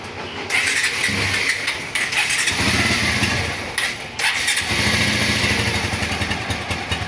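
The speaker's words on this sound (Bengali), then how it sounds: "দেখছেন ইঞ্জিনের সাউন্ডটা কি সুন্দর মিষ্টি, ঠক ঠক ঠক ঠক ঠক ঠক ঠক ঠক করছে।" A Bajaj Pulsar motorcycle engine runs steadily at close range with a continuous rumbling, knocking idle, loud and alone with no talking.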